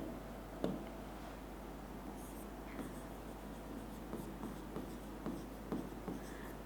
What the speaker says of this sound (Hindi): तो चलो लिखते हैं इसकी डेफिनेशन।